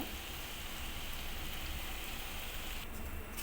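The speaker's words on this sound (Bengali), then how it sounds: "এবার এই তেলের মধ্যে এক করে ছেড়ে দেবো সব একে একে ছেড়ে দিয়েছি" Snacks deep-frying in hot oil, a steady dense sizzle and crackle like heavy rain, close and continuous with no talk.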